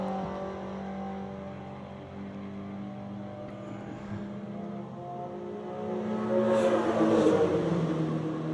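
A race car on a wet circuit at a road-racing event approaches and passes. Its engine note holds steady, then swells louder and closer toward the end, with no talk over it.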